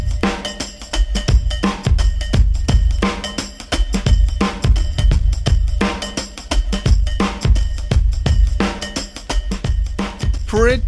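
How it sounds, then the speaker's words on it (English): A funky session drum groove in the New Orleans Zigaboo style plays alone, loud and steady, with crisp snare hits and busy syncopated kick and hi-hat patterns repeating throughout. "sent me over some drums, and they sound like this"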